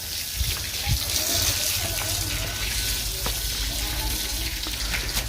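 A tap runs with a steady rushing stream of water, while people talk over it.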